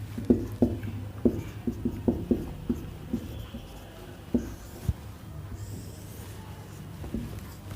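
Pen scratching out a maths answer on paper: a series of short rhythmic strokes and taps, close and fairly faint, bunched in quick bursts with pauses, no talk.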